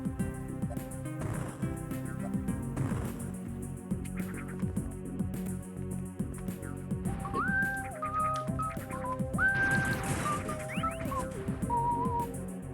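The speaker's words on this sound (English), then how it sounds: "Never have any idea how whistling's gonna sound on the mic." A person whistles a simple tune indoors during a live game stream, clear sustained notes in the second half over a steady bed of background music, fairly close to the microphone.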